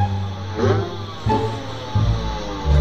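A truck engine in a GTA video game revs in repeated low surges, rising and falling a few times in quick succession.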